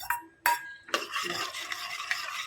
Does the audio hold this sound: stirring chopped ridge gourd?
yes